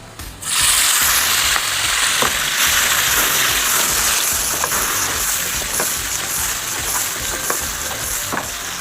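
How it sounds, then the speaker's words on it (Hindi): Tomatoes hit a hot pan with a sudden loud sizzle that continues steadily, broken by stirring scrapes and light clinks of a utensil. "और फिर आप ऐड करेंगे टोमेटोज़ को।"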